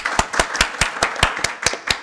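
An audience in a comedy show setting claps in sharp, regular bursts, about ten distinct claps in a steady rhythm, close and fairly loud with no talking over it.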